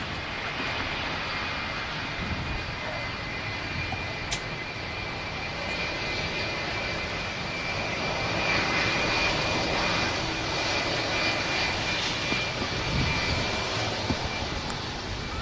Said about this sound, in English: just listen to these Rolls-Royce engines if it does